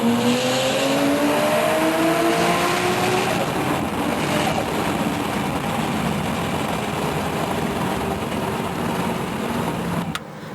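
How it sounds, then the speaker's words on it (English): A turbocharged Nissan 350Z street racing: an engine climbs in pitch at first, then gives way to a loud, steady roar of rushing wind and road noise for the rest of the run. "This is my buddy racing the 350Z Turbo."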